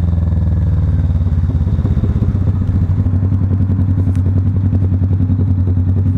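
A Kawasaki Vulcan S motorcycle rumbles underway, a loud close steady low engine throb with constant pulsing and some wind noise, no voices.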